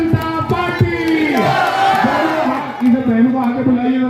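Political rally crowd roaring a Bharatiya Janata Party slogan in unison, loud massed shouting and cheers that swell, then rise again, answering a call from the stage.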